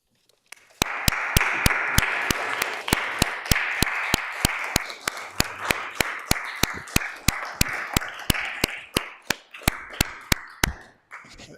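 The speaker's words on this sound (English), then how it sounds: "while we applaud Councilor Block's words" In a city council chamber, people clap in steady unison, sharp evenly spaced claps over a murmur of applause that thins toward the end.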